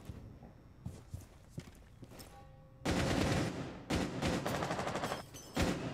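Gunfire in the video game Rainbow Six Siege, a few faint shots followed by loud sustained bursts of rapid automatic fire with brief gaps, dense and close.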